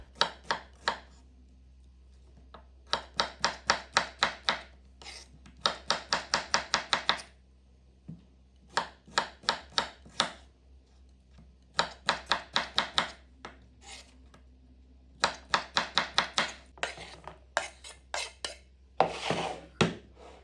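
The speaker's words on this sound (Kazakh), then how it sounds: "огурцыйымызды осындай бөліктерге бөлеміз" A knife chops cucumber into thin strips for a salad, in quick bursts of crisp, rapid taps against a cutting board separated by short pauses, close and clear with no talking.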